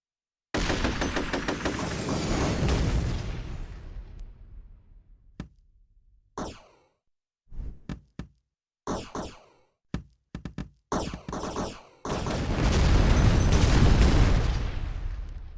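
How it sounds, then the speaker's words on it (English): ShellShock Live weapons fire in rapid bursts of shots and booming explosions, loud and close, with gaps of silence between volleys and dense barrages at the start and end. "Jerome shot my front teammate with an M4"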